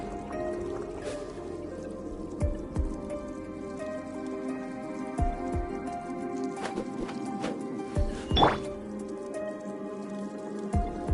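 Rain falling in Inazuma in the video game Genshin Impact, a steady patter of raindrops and drips with a few sharper splashes and soft background tones, heard alone without talk.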